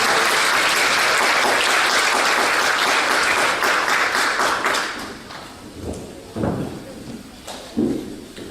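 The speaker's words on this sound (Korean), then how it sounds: "박수로 반영을 해주시면 감사하겠습니다" A church congregation claps for the pastor coming forward, a dense loud round of applause that dies away after about five seconds into a few thuds and footsteps, with brief speech near the end.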